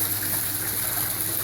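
Water flows continuously through an aquaponic system inside a backyard greenhouse, with a steady, loud rushing gush and no pauses.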